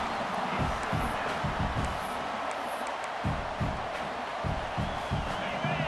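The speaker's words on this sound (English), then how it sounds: "This crowd, full throat, spreading the eardrums and letting them know it's going to be a long day." A football stadium crowd roars in a loud, continuous wash of noise, with rhythmic thumps and pulses underneath suggesting band drums.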